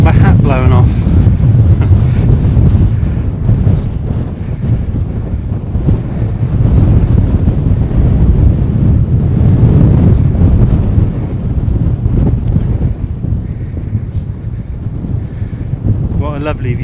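Strong wind buffets the microphone on top of Cley Hill near Warminster, a loud, continuous rumbling roar with gusts rising and falling, and a voice speaking faintly under it.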